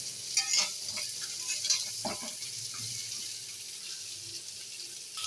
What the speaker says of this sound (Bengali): নুন হলুদটা আমি ভালো করে মিশিয়ে দেবো সজনে ডাঁটাতে